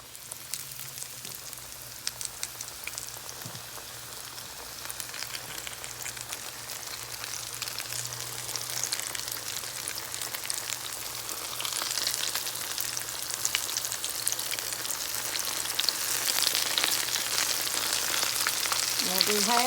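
Shrimp fry in hot oil in a Southern home kitchen, a dense crackling sizzle that grows steadily louder and busier over twenty seconds, close by with no talk.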